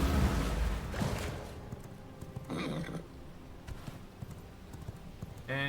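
A horse is mounted and ridden in the V Rising video game, with a whinny and bursts of hoofbeats heard fairly close alongside game effects.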